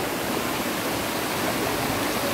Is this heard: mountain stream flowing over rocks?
yes